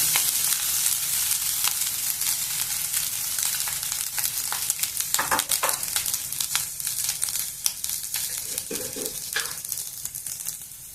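Cooked basmati rice stir-frying in a hot pan for veg egg fried rice, a steady close sizzle with scattered scraping and stirring clatters as the grains are tossed, no voices.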